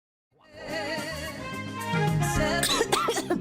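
A single drawn-out cough, strained and rough, sounding close to the listener, with a raspy, throaty quality that builds toward the end.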